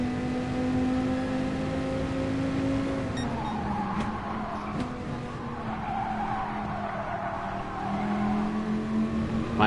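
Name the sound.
Dodge Viper engine revving in Gran Turismo Sport video game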